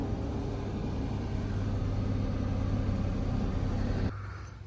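A 2005 Nissan Frontier truck engine idles steadily with a low, even rumble for about four seconds, then drops away abruptly near the end.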